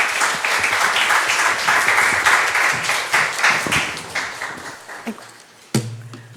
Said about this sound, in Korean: 우미연 자매님 나오실 때 큰 박수로 격려 환영하겠습니다.